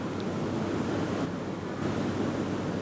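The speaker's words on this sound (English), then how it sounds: "Right now it's nice and hot. You can hear the searing sound." Meat searing in a very hot pan, a steady loud broadband sizzle and hiss running unbroken throughout with no pauses or talk.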